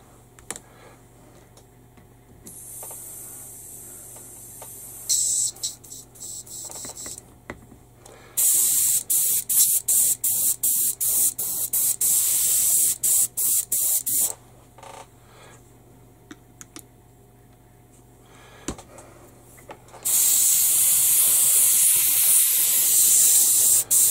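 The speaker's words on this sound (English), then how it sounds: "I'm spraying that in there so you can see that it's getting cleaned out" Airbrush spraying AK thinner to clean itself out, several loud bursts of hissing spray of a few seconds each, broken by quieter gaps with faint clicks and rattles, close to the mic.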